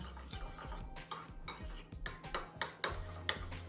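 A utensil stirs garlic and lemon juice into a spiced lentil patty mixture, giving a rhythmic series of quick scraping, clicking strokes against the bowl, close and fairly soft.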